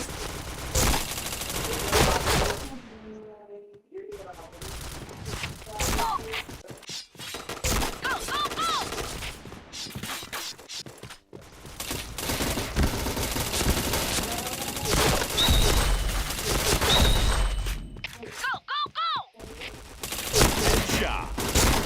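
Bursts of rapid gunfire in the Point Blank shooter game come thick and loud, with single shots and volleys mixed in, while a player talks over the action at intervals.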